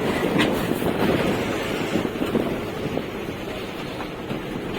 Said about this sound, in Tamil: காற்று வேணால் உசு உசுன்னு அடிச்சுனே இருக்குது